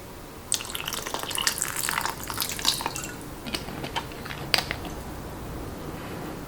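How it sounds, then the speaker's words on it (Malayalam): Plain water splashes and trickles into a bowl of soaking chillies in a kitchen, irregular bursts of pouring and dripping close by with no talk. "ഇതിലേക്ക് ഞാനിവിടെ സാധാരണ പച്ചവെള്ളമാണ് ചേർക്കുന്നത്."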